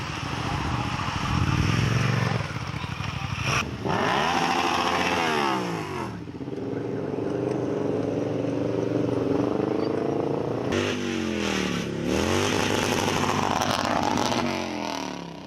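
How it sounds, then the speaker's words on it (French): Motorcycles rev loudly through the streets of Kpalimé, Togo, at a gathering of motorcycle fans, engines rising and falling in repeated bursts, close and continuous. "faire du bruit avec vos motos à travers la ville"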